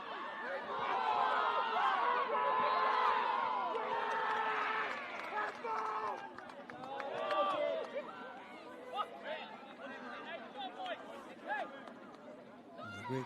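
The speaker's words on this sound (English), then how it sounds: "Great deal of cheering in the game behind us." A distant crowd cheers and chatters at a women's football match across an open field, a broad swell of voices that rises loud early on, then settles into a steadier murmur.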